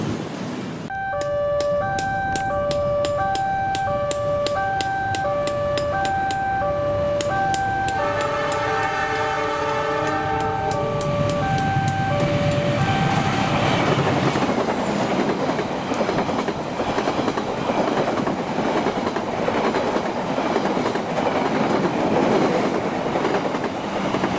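The Kertajaya passenger train, running from Pasar Senen to Surabaya, sounds a long multi-tone horn, then rumbles past close by with a steady roar of wheels and carriages that lasts to the end.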